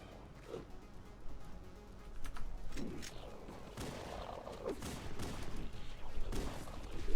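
Bursts of gunfire from Halo CE, sharp repeated shots scattered over steady game noise with several distinct cracks standing out through the stretch.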